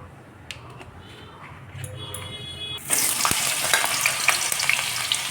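Potatoes fry in oil for a mixed vegetable dish, starting with quiet clicks and light ticking before a loud, dense sizzle bursts in and keeps hissing steadily with scattered pops.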